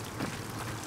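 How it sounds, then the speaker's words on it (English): Rain falls in the video game Gears of War 4, a brief, steady hiss of drops with a slight swell partway through. "And now it's raining."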